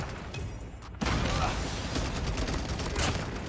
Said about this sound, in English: Why is there so much nades here?